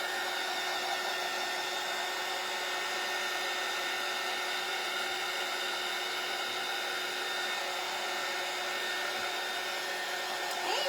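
A hair dryer blows steadily on a wet print for a heat-transfer craft project, a close, loud and even whooshing hum that holds without a break, with no talking over it.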